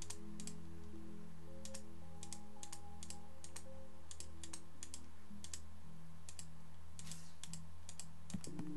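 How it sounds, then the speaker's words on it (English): Computer keyboard and mouse clicking rapidly while searching in a game, bursts of sharp clicks and key taps in irregular clusters over a low steady hum of game music. "Probably just hear me clicking like crazy"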